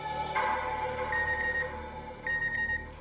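A telephone rings in a home: repeated electronic ring bursts over a low room hum, two clear ringing phrases with short gaps, no talk.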